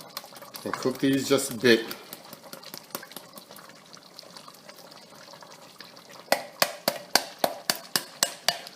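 Drained beans tip into a cooking pot for Jamaican-style oxtail stew, giving a brief wet clatter and slosh near the start, followed later by a run of sharp, evenly spaced clicks or taps; a voice speaks over the opening.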